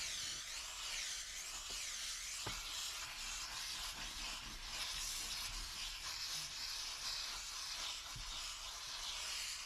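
A steam cleaner works on the interior surfaces of a dirty work truck, a steady close hiss of spraying steam throughout with a few faint bumps and taps, no talking.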